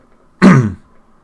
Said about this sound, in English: Just clearing my throat there.